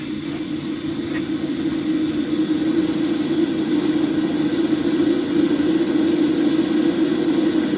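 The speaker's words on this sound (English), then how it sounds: "You can see the motor's rolling over." A Degenerate Nova's 434 engine cranks over on the starter during a leak-down test, giving a loud, steady mechanical whirring drone that holds constant for the whole stretch with no talking.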